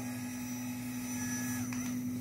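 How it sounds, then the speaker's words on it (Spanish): An electric fan just unboxed and switched on indoors, giving a steady, loud motor hum with a constant whirring tone throughout, no voices. "es un buen ventilador"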